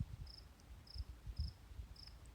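Male cricket chirping in short, evenly spaced bursts, four clear chirps at a steady rhythm, close and fairly faint over a soft low rumble, with no voices.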